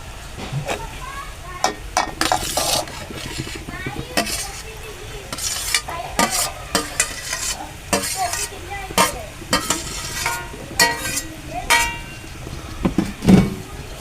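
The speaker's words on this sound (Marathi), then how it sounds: "तो पण आपण परतून घेऊ." Finely chopped tomato sautés with onion in a pan for a peas and paneer dish, a low sizzle running beneath repeated scraping and knocking of a spatula against the metal, with speech in the background.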